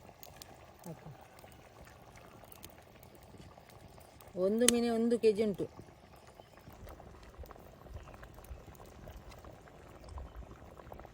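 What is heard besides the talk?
masala curry boiling in pot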